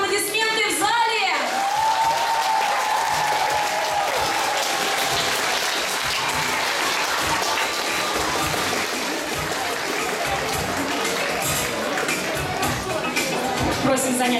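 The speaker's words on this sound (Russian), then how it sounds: "И громкие аплодисменты в зале!" Sustained, loud applause fills a school hall at a student award ceremony, a dense wash of clapping lasting the whole stretch, with a voice speaking at the very start.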